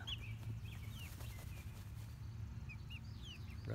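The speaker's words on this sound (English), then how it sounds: "And down here are little Easter chicks." Little Easter chicks on a farm give faint, scattered high peeps over a low steady background hum, with soft rustling nearby.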